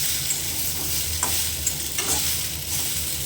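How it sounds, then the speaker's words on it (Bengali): Yardlong beans frying in a hot pan for a mashed bean dish, giving a steady, close sizzle with occasional soft stirring scrapes and no talk. "এই বরবটিটা একটু কিছুক্ষণ ভাজতে হবে"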